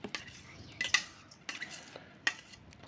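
A mixture poured into a pot is stirred with a spoon, giving a few scattered scrapes and metallic clinks against the pot, quiet and close with gaps between strokes.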